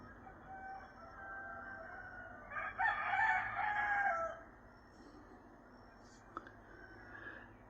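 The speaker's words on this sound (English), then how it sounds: "the old rooster" A rooster crows in Panama, its single long crow rising clearly in the middle of the stretch, with soft whispering and quiet background noise around it.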